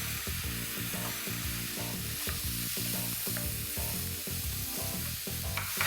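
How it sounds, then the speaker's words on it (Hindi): Minced mutton keema cooks in a pan with a constant soft sizzle, overlaid by a regular rhythm of scraping and stirring strokes, fairly quiet and without any voices. "ये मटन कीमा को 5 मिनट तक आपको पकाना है"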